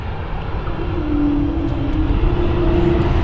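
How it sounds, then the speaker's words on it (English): Pratt & Whitney PW1000G geared turbofans on a landing airliner at London City, a steady loud roar with a sustained whining tone that swells slightly as it passes close by, no voices. "That's the iconic sound. You just heard that of the Pratt & Whitney 1000s."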